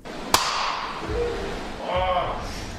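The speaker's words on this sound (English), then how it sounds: "when sodium potassium alloy reacts with water, you get a pretty decent explosion." Sodium potassium alloy explodes on contact with water in one sharp, loud crack near the start, followed by crackling, fizzing reaction noise and some muffled talk.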